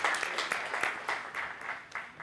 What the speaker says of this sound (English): Round of applause, guys, for all of them.